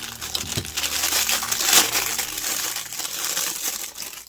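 Loud, close crinkling and crushing of plastic packaging from a Thomas Wooden Railway toy, irregular rustles and crackles with a sharper crunch midway, no speech.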